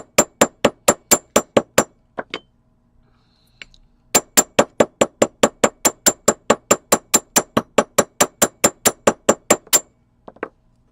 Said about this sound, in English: again, you can texture it with your hammer